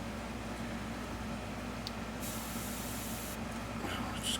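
A steady, soft hiss of an airbrush spraying runs throughout, quiet and close, with a couple of brief stronger bursts.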